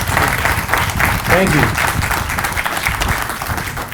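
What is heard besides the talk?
round of applause for band and ROTC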